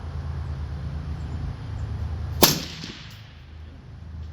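A single sharp firearm shot at an outdoor shooting range, one loud close crack with a short ringing tail over a low steady background.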